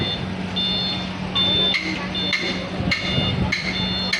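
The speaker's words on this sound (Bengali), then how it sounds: "জয়দেবপুর রেলওয়ে স্টেশনের সংস্কার কাজ চলতেছে" Renovation work at Jaydebpur railway station brings repeated sharp metallic knocks in an uneven rhythm, alongside intermittent high electronic beeping and a steady low background hum; a voice is faintly present.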